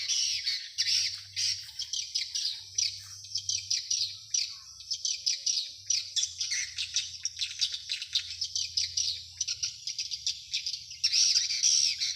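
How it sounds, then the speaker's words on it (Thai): A dense flock of farmed swallows twittering and chirping continuously, busy high calls overlapping with a low hum underneath. "ได้ยินเสียงนกนางแอ่นไหมคะ เราเลี้ยงนกนางแอ่นด้วย"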